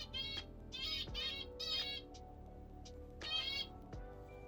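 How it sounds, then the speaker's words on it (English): Small birds chirp and call outdoors in a few bright, bursting phrases with short pauses between them, fairly close and clear against a low background hum. "Shut up, little birds."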